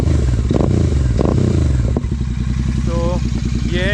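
A Royal Enfield Continental GT 650 with a modified exhaust thumps and burbles up close, with two short throttle blips early on, then a steady loping idle as a voice speaks over it.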